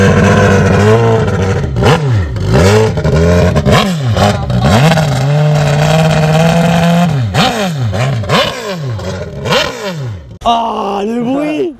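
An F1 prototype jet ski engine starts and revs hard, loud and close, with repeated rising and falling throttle blips and a sustained roaring hold, then a brief pause before it fires again.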